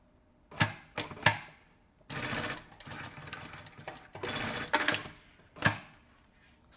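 A sewing machine stitches a finish along a zipper, running in short bursts of rapid needle clatter separated by pauses, close and clear with no talk.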